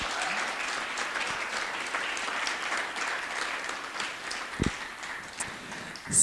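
A moderate round of audience applause for the speakers at a women-in-tech event, even steady clapping from a medium-sized crowd with a couple of louder nearby claps and bumps near the end.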